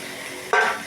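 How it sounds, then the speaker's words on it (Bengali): A sudden sharp hiss bursts up as small rohu fish pieces and potatoes drop into a hot pan of oil, a brief loud sizzle that eases off quickly. "এবার মাছ আর আলুটাকে ছেড়ে দেবো"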